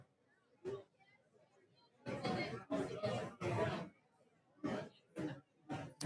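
A crowd gathered for Knox County primary election results chatters nearby, with several overlapping voices coming in loud bursts separated by short quieter gaps, plus a brief laugh or cough early on.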